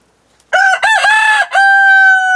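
A neighbor's rooster crows once, loud and clear, a drawn-out cock-a-doodle-doo rising after a brief quiet start and holding its final long note, with no talk over it.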